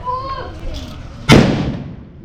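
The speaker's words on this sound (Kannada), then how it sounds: "ದಾರಿ ತುಂಬ ಪಟಾಕಿನ ಹೊಡ್ಕೊಂಡು" A single sharp firecracker bang bursts out during a Deepavali festival procession carrying the Gauramma idol to the water for immersion, loud and close with a decaying rumble, following a stretch of people talking.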